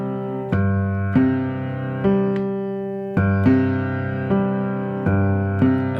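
A piano repeats a simple rhythmic pattern of low sustained chords, each struck firmly and left to decay before the next, in an even, unhurried pulse.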